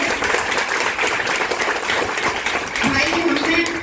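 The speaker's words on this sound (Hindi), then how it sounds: "अपने टीचर्स के लिए एक बार जोरदार तालियां करिए।" A crowd at a government higher secondary school ceremony honouring schoolgirls applauds with dense, continuous clapping while a voice talks over it.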